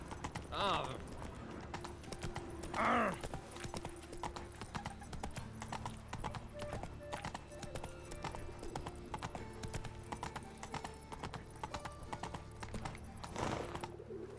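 Roach, a horse in The Witcher 3 game, walks with steady clip-clopping hooves and a couple of snorts or whinnies, close and moderately loud over a low ambient bed, with in-game voices speaking at times.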